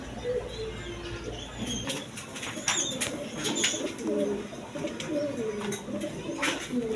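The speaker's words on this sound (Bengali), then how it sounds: "দর্শকবিন্দু এখানে এক পেয়ার লেস শার্টিং কবুতর আছে দেখেন" A pair of lace shirting pigeons coo in repeated low, throaty calls nearby, with a few wing flutters and faint background noise, no voices.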